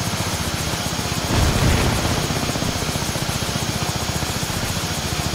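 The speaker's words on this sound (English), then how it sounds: "You can fly chopper." Helicopter flying in a video game, a loud continuous rotor drone with rapid regular chopping pulses and a brief swell partway through, steady and close with no talk.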